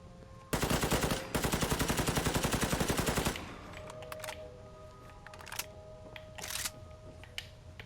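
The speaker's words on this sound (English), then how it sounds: "you don't exactly need a scope to shoot at that range" Rapid automatic gunfire in Fallout 4 rattles out in two loud sustained bursts, then trails off into scattered single shots and clatter under a faint ambient hum.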